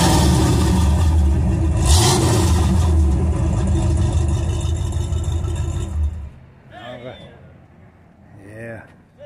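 A Ford F100 pickup engine at a church cruise-in runs loud and rough, revving and rumbling up close for several seconds before cutting off, leaving people talking over quiet background.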